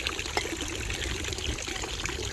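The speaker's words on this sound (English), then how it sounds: "you can actually drink out of this fountain, and you're not gonna get sick" Water running from a public drinking fountain in Switzerland, a steady close trickle and splash that continues evenly throughout with no talking.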